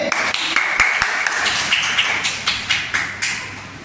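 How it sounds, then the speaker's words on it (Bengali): Schoolchildren from third and fourth grade at a primary school clap their hands together in a brisk, uneven burst of many overlapping claps, close and loud, with a few sharper individual claps standing out near the end. "হাততালি দে সব, হাততালি"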